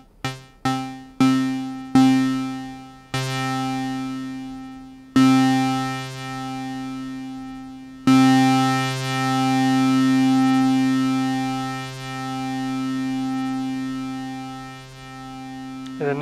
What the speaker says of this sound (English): You can hear it's got a pretty long release time.